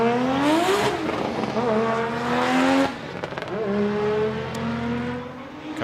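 A Toyota JZX100 Chaser drift car at Okayama International Circuit screams loudly through high revs, pitch sweeping up, with a sharp cut near the three-second mark on the handbrake entry before the engine climbs again with tire noise during qualifying.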